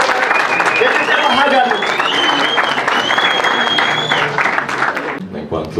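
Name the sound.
audience applause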